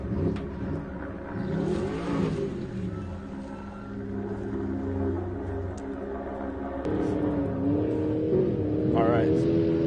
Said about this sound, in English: The car is going off the line.